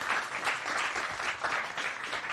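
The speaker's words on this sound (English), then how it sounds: "So with a huge round of applause," A crowd at a tech demo event applauds a presenting team, a steady, fairly even wash of clapping that fills the whole stretch without a break, moderately loud and dense, with no voices standing out above it.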